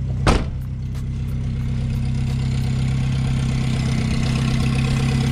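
A Ford Festiva junkyard car engine idling with a steady low rumble and a faint rhythmic clatter, close by, after a brief knock at the start.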